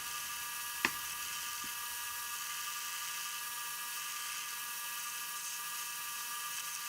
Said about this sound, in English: Here I was drilling out the center.